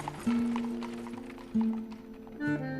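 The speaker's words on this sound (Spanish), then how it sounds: "sobresalta al caballo que apura el paso hasta llegar a destino" A carriage horse's hooves clip-clop in a steady trot, fairly close, over a low rumble of carriage wheels.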